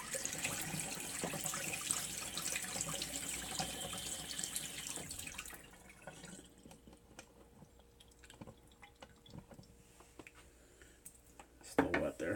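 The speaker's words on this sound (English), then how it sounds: "take this brush, run it under some hot water here" Hot tap water runs steadily as a shaving brush is rinsed under it, a close hiss for several seconds, then the flow stops and leaves quieter drips and handling sounds.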